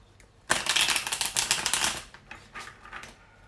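Tarot cards are riffled and shuffled close by in one quick burst of rapid flapping clicks, followed by a few softer shuffles and taps.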